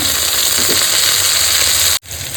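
A large tomato dropped into spices already frying in a pan gives a loud, steady, close sizzle that runs on evenly and breaks off briefly once before picking up again.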